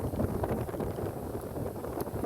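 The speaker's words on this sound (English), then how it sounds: "Well, it's pretty windy, but here we are at a bluff overlooking the Sea of Cortez." Strong wind buffets the microphone at a bluff above the Sea of Cortez on the Baja Divide, a steady, loud rumbling roar that holds for the whole stretch with no voices.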